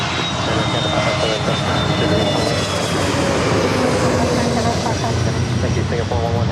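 A Delta jet takes off from runway 24 left at LAX with a loud, steady engine roar that fills the whole clip, and a radio voice talks over it.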